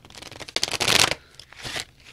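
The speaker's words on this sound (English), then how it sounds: "they're brand new cards, so it's a little hard for me to shuffle them." Stiff, brand new tarot cards are shuffled by hand in two close, crisp riffling bursts, the first longer and louder, the second shorter and softer.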